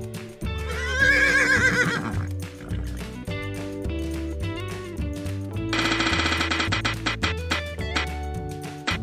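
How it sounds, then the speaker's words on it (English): A horse whinnies loudly near the start, with a second neigh-like burst later, set over steady background music. "horse"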